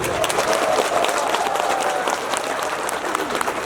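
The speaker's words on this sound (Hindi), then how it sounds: "सब जोरदार ताली बजाया।" A crowd claps loudly at the Diu Boo sunrise festival in Tamladu, Walong, Arunachal, a thick sustained wave of applause that stays full throughout, with some voices faintly underneath.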